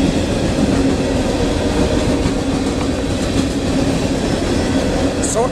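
A CSX phosphate and ammonia freight train with tank cars passing at night, a loud steady rumble of wheels and wagons rolling by close, with a brief squeal near the end.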